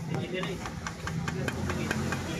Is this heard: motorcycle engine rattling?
yes